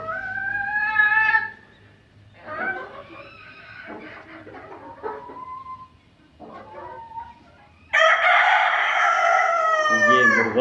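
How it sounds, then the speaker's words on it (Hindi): An Aseel rooster crows on a chicken farm in Pakistan, one crow at the start and another loud, close crow near the end, with quieter clucking and other fowl calls in between. "असील मुर्गा है ये।"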